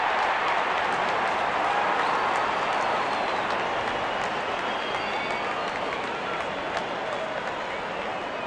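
A steady, dense roar of crowd cheering fills a cricket stadium in the Real Cricket 22 video game, constant and loud throughout with no breaks.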